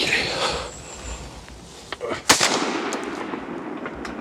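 A single sharp shotgun blast rings out outdoors during a wood pigeon hunt, a brief crack amid quiet ambient noise, followed by a few faint knocks.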